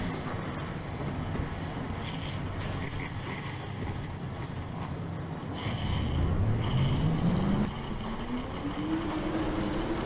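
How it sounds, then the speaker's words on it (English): A field of stock cars in the NASCAR Racing 2003 sim at Hattiesburg Speedway fires up, a low rumbling drone building as engines catch, with one rising rev sweeping upward near the end. "Drivers, start your engines."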